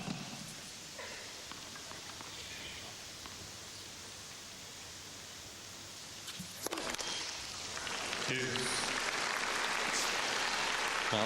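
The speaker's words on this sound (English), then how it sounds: "listen to the applause on the double fault" Tennis crowd at the 2005 Australian Open, Agassi match, breaks into broad, hissing applause after a double fault, starting quietly then swelling and holding steady and loud through the latter half.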